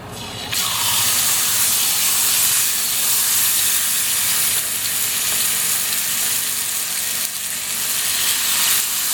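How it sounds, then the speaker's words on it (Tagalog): Pork belly (liempo) fries in hot oil in a pan with a loud, steady sizzle and crackle. The spattering starts abruptly and continues close and unbroken for the rest of the clip, with no talking. "Ayan, mainit na po ang ating mantika at ang kawali. Mag-start na po tayong magprito."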